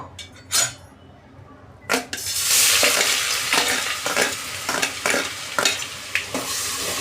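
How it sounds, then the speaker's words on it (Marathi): Ginger and garlic hit hot oil in a pot for a Bhandari-style mutton curry, bursting into a loud, steady sizzling hiss after a few scattered clicks, with spoon scrapes and stirring knocks recurring close by. "तर बघा तेल आपलं तापलेलं आहे. आता मी इथे आलं लसूण टाकते."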